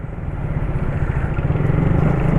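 A 2009 Suzuki Raider R 150 motorcycle engine running close by, a low throbbing exhaust note that builds slightly in loudness and pulse, with no talk over it.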